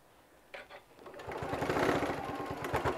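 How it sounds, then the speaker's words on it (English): A sewing machine runs a top stitch along a pouch flap, starting with a couple of slow stitches and then speeding into a steady, fast mechanical chatter, close and fairly quiet. "get you a nice top stitch on here"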